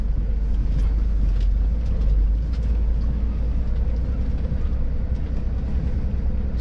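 A long freight train of gas tank wagons rolls past near the Lena River region, a heavy continuous low rumble with faint rhythmic wheel clatter, steady and loud throughout.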